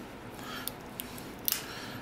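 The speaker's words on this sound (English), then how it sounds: "I guess that's what the scissors are supposed to kind of work like." Swiss Army knife scissors, slightly loose, snipped open and closed by hand, three or four faint crisp clicks spaced over two quiet seconds.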